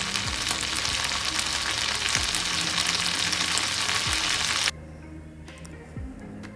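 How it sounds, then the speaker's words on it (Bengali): Green chilli, ginger garlic paste and tomato frying in oil for an egg curry, a loud steady sizzle with a few stirring scrapes that drops abruptly to a quieter simmer near the end. "একটু তেল দিয়ে আমি একটু কাঁচা লঙ্কা দিয়েছি আর এর মধ্যে জিঞ্জার গার্লিক পেস্ট অ্যান্ড টমাটার দিয়ে দিয়েছি। এবার আমি এটা একটু কুক করব।"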